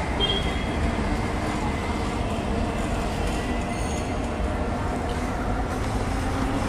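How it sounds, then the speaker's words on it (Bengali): An overhead metro train passes near Karunamoyee, heard as a steady, moderately loud rumble with faint wheel whine, continuous throughout with no voices. "ওপরে মেট্রো গেল আপনারা দেখতে পেলেন।"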